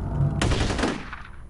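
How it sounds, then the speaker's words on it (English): Rapid gunfire rings out in the first-person shooter game FEAR, a dense loud burst of shots fired at walls with a sharp onset and a quickly fading tail. "Again, I'm shooting the walls."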